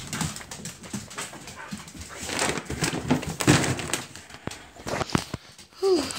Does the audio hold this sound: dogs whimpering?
yes